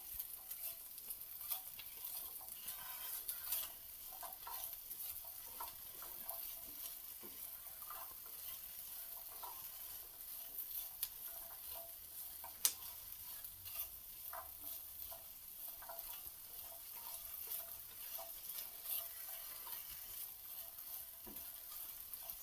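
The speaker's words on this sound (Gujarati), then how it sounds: "હવે આપણે આ લીલા વટાણા જવા દેશું, એને પણ એમાં સરસ થવા દેશું।" Green peas frying and being stirred in a pan for Maggi rice, a soft, steady sizzle with light scraping and occasional small clicks, quiet and continuous without talk.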